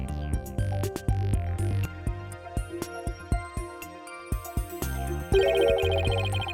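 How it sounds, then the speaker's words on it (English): Footsteps accompanied by ringing bells from the video game Phoenix Wright: Ace Attorney – Spirit of Justice, a steady rhythm of bright chiming hits over layered game music, with a shimmering shift near the end. "The sound of bells changes to the sound of water at one point."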